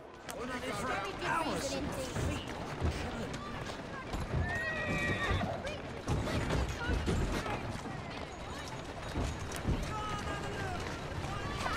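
A horse in Assassin's Creed Syndicate whinnies repeatedly over the steady clip-clop of galloping hooves and carriage rumble, loud and close, with game sounds layered around it.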